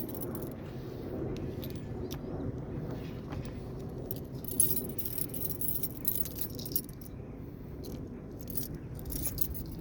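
Keys jangle and clink close by while someone struggles to unlock a pigeon coop door, a continuous metallic rattling with small sharp chinks over a faint background hum.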